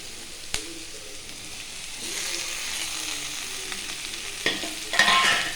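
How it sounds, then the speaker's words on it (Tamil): Onions and curry leaves sauté in a pan with a soft, steady sizzle, while a utensil stirs with occasional sharp scrapes and clinks against the pan. "வெங்காயத்தை கூடயே அப்படியே கருவேப்பிலையும் போட்டு நல்லா வதக்கி விட்டுக்கோங்க"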